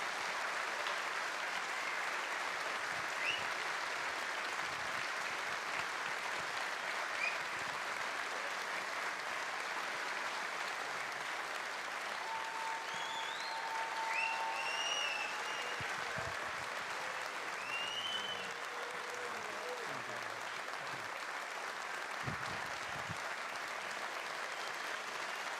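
Applause from a concert audience in an auditorium, steady moderate clapping sustained throughout, with a few faint whistles or cheers rising above it.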